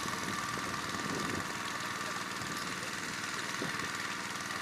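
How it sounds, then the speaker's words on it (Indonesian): A small Alkon water pump engine runs steadily, pumping seawater from a pond up to a holding table at a salt farm, its even mid-pitched idle hum and vibration continuous and close throughout. "petani memompa air menggunakan mesin alkon menuju meja penampungan atau parira"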